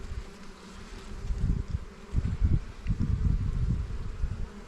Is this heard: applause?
no